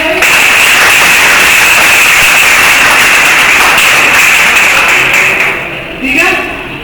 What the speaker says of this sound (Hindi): मैं तालियां बजाई